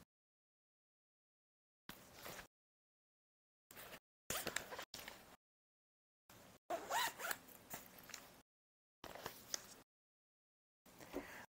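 Zipper pulled in short separate bursts, closing a case around a third-generation Kindle Keyboard e-reader, with quiet pauses between each zip.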